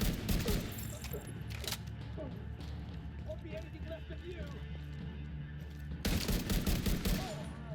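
Automatic gunfire in the video game The Division 2, with rapid bursts of shots over a dense battle din and a heavier burst near the end, under steady talk.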